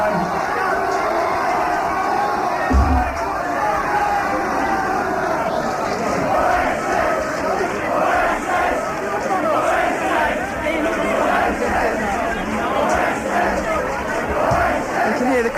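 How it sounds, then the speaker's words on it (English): A concert crowd at Newcastle Riverside in 1994, a dense, loud and steady roar of cheering and chanting voices that keeps going as the audience calls for the band to return. "The crowd still want them to come back on, but the band are off"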